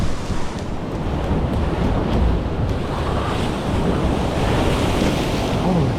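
Big lake waves crash against the South Pierhead Lighthouse in Muskegon, Michigan, a loud, continuous roar of surf with heavy wind buffeting the microphone throughout.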